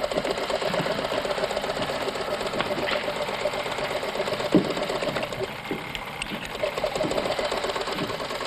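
Sewing machine running in a tailor shop, a continuous, fast rhythmic mechanical whirr at moderate level, with a few faint clunks over it.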